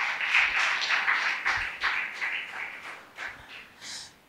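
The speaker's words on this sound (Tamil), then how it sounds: "அதற்காக எல்லோரும் ஒரு கரகோஷங்களை எழுப்புவோம்" An audience at a Christian gathering in Tiruvottiyur applauds in a moderate, fairly distant patter of clapping that thins out and dies away into a few scattered claps.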